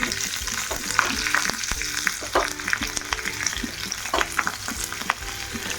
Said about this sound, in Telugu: ఇదే కళాయిలో మనము చిల్లీల్ని వేసుకుందాం